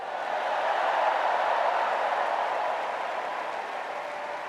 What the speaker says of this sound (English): Let's give a special round of applause to our First Lady,